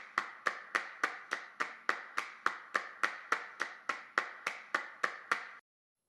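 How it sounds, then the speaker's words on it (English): Recorded clap track sounding alone: about nineteen sharp, evenly spaced claps in a steady rhythm, each with a short decaying tail, close and fairly bright, ending abruptly. "Just on both these claps, just to get a little more clarity out of them."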